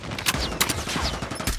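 Rapid automatic gunfire rings out in a Call of Duty Mobile match. Several sharp shots crack in quick succession at close range over a short burst, with no voices.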